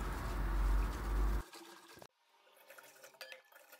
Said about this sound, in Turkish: hazırladığımız turşu suyunu kavanozlara pay edelim